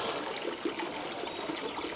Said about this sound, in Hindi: ये भी है भाई एक धारा, कितना पानी है यहाँ इस धारा में, देखो बहुत सारा पानी है